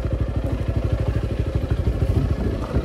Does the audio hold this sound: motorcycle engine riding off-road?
yes